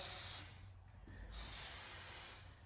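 Short hissing bursts of an aerosol adhesive spray on the seams of a turkey transport box, two quick sprays with a brief pause between, close up and fairly quiet.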